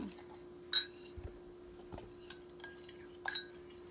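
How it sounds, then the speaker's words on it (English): Keto chocolate brownie mug cake batter being stirred with a utensil in a mug, giving a few soft scrapes and light clinks of metal against the cup over a quiet background with a steady low hum. "Stir the mixture together."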